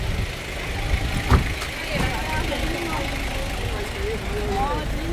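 Steady stream of cars rolling past on a road, a broad continuous traffic rumble with engine noise, while several people talk over it.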